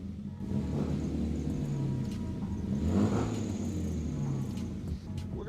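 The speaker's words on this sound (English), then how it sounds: "So a couple pumps on the gas, and it starts right up." A Lamborghini Countach 5000 S starts and idles with a deep, rumbling engine note that swells in a couple of revs, heard close up and steady throughout.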